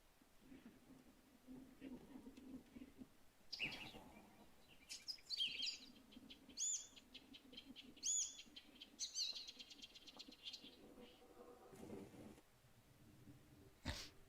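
Birdsong in the video game Witcher 3: scattered sharp chirps and short whistled calls at moderate loudness, separated by brief gaps, over a faint low background hum.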